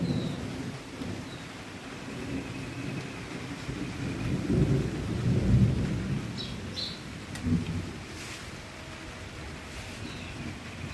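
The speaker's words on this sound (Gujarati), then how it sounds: "ગાજે બહુ જ." Thunder rumbles low and deep through a steady downpour of rain. A heavier, swelling roll builds near the middle before fading back into the constant hiss of rainfall.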